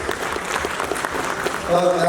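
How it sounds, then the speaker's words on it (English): Brief burst of applause from an audience welcoming back an actress named Jenny on a Kannada television stage show, dense clapping throughout with a voice coming in near the end. "Please give her a huge round of applause."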